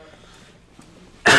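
A single loud, harsh cough from a person with a lingering two-month cough bursts out at the very end, after a stretch of near silence.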